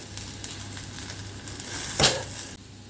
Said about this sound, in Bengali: খুবই অল্প তেলে এই ডিমটা ভাজলাম।